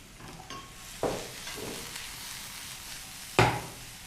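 Finely chopped onions sizzle in hot oil in a pan, with a few sharp scraping stirs cutting through the steady frying hiss; close up, no voices.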